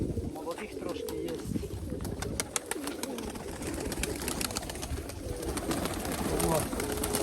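Mykolaiv pigeons cooing softly in a loft, repeated low coos and some fluttering under someone talking nearby.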